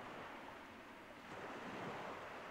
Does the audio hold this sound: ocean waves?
yes